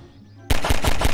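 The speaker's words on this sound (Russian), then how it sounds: "Давайте выстрелим, короче, плазменным шаром в воздух" A plasma ball weapon fired into the air in Garry's Mod, a loud burst that starts abruptly and continues as a rapid run of rhythmic, punchy energy shots.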